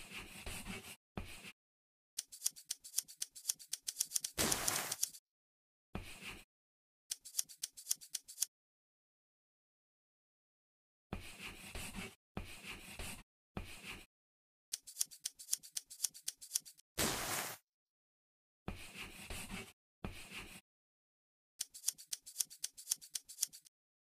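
Scissors snip through fabric while a bag is being sewn in an Android sewing game, giving rapid runs of crisp clicking cuts in bursts separated by silent pauses. Nobody speaks.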